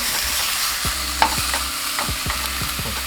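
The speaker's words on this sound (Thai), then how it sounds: "เดี๋ยวเราจะเอาหมูเข้าไปคั่วก่อน หรือว่าไปจี่ก่อนนะครับ จะจี่แบบไร้น้ำมันนะครับ" Pork belly dry-frying in a pan without oil, a loud, constant sizzle with a rhythmic series of spatula scrapes and taps up close.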